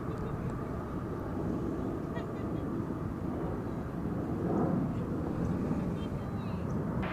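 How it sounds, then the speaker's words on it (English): An American Airlines Airbus A320 arriving at DFW Airport from Mazatlan makes a steady, broad jet roar at a distance, with no clear rise or fall. "Coming in from Mazatlan, American Flight 2778, an Airbus A320."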